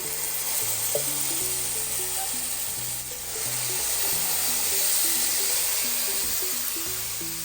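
Loud, continuous hissing sizzle of curry leaves and dried red chillies hitting hot oil, close up, while a soft stepping melody plays underneath.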